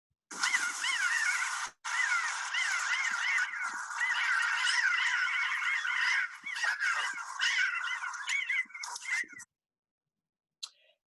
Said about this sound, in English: listening for pinyon jay calls